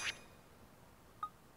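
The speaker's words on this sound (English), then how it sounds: "that little noise I keep hearing is my phone. A message, maybe?" Two short, faint chimes of a phone message notification in the video game Judgement, a bright ping at the start and a softer one just over a second later, in otherwise quiet surroundings.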